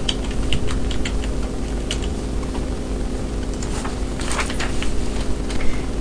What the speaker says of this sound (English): Type in the check number.